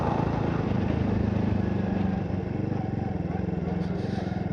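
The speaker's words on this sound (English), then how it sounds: "I'm on a motorcycle." A motorcycle ridden off-road along the Bukhangang river in Namyangju gives a steady, close engine drone with rumbling wind noise, unbroken throughout.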